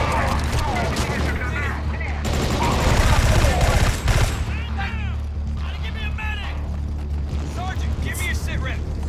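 Gunfire in a video game shooter demo shown at the PS4 reveal, dense bursts of shots and booms, loudest in the middle, with excited voices talking over the action.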